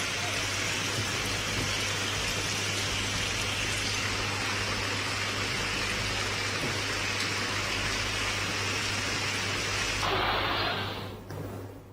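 Heavy rain pours down in Banaskantha, Gujarat, in a steady, dense hiss over a low constant hum, easing off abruptly near the end.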